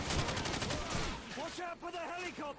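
Rapid burst of gunfire in the Call of Duty 4: Modern Warfare campaign, a fast string of loud shots at the start giving way to tonal whines and game effects, with a voice speaking over it.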